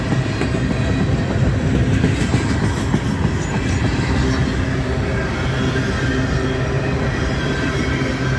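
A long loaded freight train rumbles steadily past close by, wheels clattering and squealing faintly over the rails in a continuous heavy roar.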